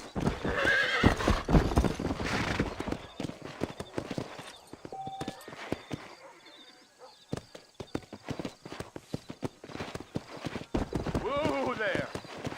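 A horse in the Western game Red Dead Redemption, with rhythmic clip-clop hoofbeats and a clear neigh, alongside speech and other game sounds.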